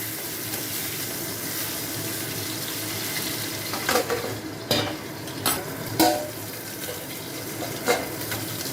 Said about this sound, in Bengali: মাছটা কড়াইতে দেওয়ার পর আমি একটু ঢেকে দেবো, নাহলে তেল ছুটছে